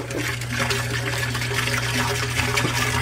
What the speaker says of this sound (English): We're putting in 2 gallons of water first